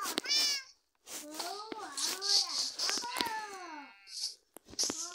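A pet cat meows several times in short rising and falling cries, close by and fairly quiet, with pauses between calls and a higher-pitched voice speaking intermittently alongside.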